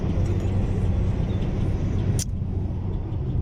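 Car driving, heard from inside the cabin: a steady, fairly loud road and engine rumble throughout, with a short bright noise near the end, no talk.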